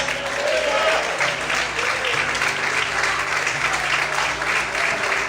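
Congregation applauding during an evening church service, loud sustained clapping from many hands with tonal voices or music droning beneath, steady for over five seconds.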